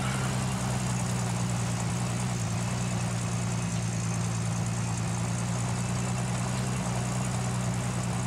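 A vehicle engine idles steadily in Gold Rush: The Game, a constant low rumble with broadband hiss that holds unchanged throughout, with no voices.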